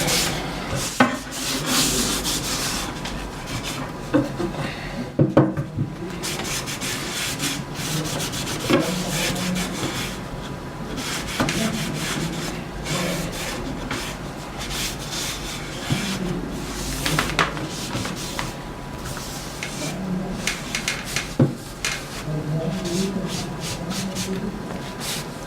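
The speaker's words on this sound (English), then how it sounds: "And after that I'll sand it again" Sandpaper rubbing back and forth along a wooden guitar neck, close and continuous with uneven scratchy strokes and brief pauses, no voices.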